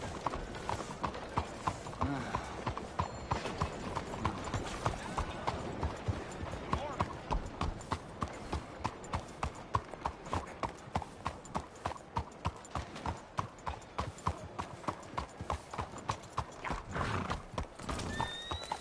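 A horse gallops and whinnies in the Red Dead Redemption 2 video game: a fast, even clip-clop of hooves runs throughout with a neigh mixed in, under faint background voices.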